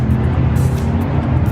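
Lamborghini Huracan engine, a 2015 model, roaring loud and steady at close range with a dense, constant low drone for the whole stretch and no talking.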